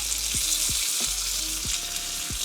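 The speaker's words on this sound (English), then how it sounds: "while we're crisping up the other side, then it'll start to set onto that bacon" Bacon frying and crisping in a pan on a barbecue, a dense steady sizzle with a low hum and several soft thuds at irregular intervals.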